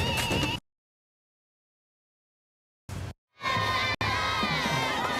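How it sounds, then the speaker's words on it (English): Crowd at a sellout college football game between California and Nevada at Mackay Stadium in Reno, roaring and cheering in short bursts broken by abrupt gaps of silence. "Great crowd here at Mackey Stadium."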